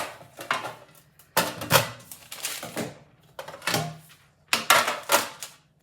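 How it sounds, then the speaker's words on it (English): Clattering metal sheet pans being handled, several sharp clanks and scrapes in bursts with short pauses between them. "I'm gonna get out my sheet pans."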